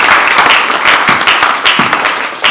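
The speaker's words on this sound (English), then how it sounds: "What about a round of applause for that?" Loud crowd applause at a boxing press conference, with many hands clapping in a dense, uneven patter that swells and dips over a couple of seconds.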